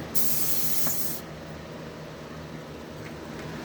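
A paint spray gun, loaded with leftover lacquer, lets out a short, loud burst of hissing spray lasting about a second, then steady low background noise.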